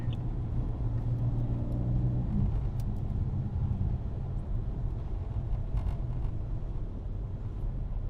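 BMW M4 accelerating on a race track during a track day: a steady, low engine drone with wind rumble holds for the whole stretch, fairly loud and continuous with no talk.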